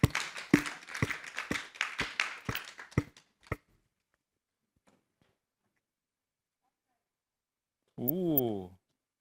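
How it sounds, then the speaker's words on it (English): Audience at a regional inclusive employment event clapping in a steady run of sharp, distinct claps for a few seconds, then silence before a brief voice. "May I have the clap for them?"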